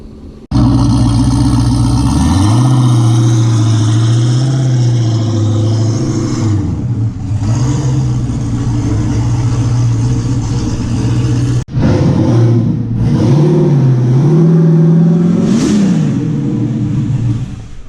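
A Nissan G35 with a blow-through carburetor revs loudly up close, the engine climbing and holding in sustained droning pulls, dropping back briefly twice, then rising again.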